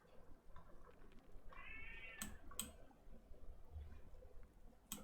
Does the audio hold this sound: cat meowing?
yes